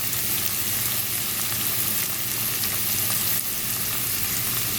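Beef stroganoff fries in a pan, a steady dense sizzle with faint scraping as it is stirred, close and unbroken.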